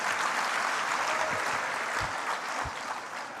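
Crowd applause, a full steady clatter of many hands clapping that gradually thins toward the end, with a few low thumps mixed in.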